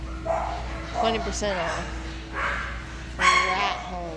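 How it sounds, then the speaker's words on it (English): Dog barking inside a pet store, a few sharp close barks in bursts mixed with a person talking nearby. "Sorry about the dog, guys."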